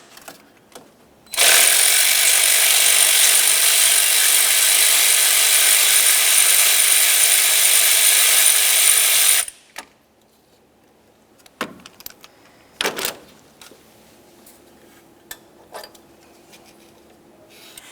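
A 12mm ratchet loosens a lower AC compressor mounting bolt on a 2006-2011 Honda Civic, whirring loudly and continuously for about eight seconds. A few scattered metallic clunks and taps follow.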